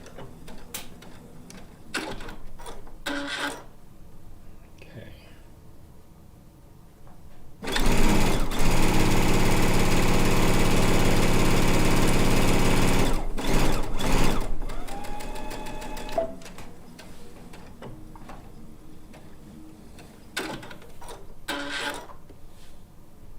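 A quilting sewing machine chain-pieces a blue and white quilt top in one steady loud run of fast stitching lasting several seconds, with a few short bursts of stitching before and after.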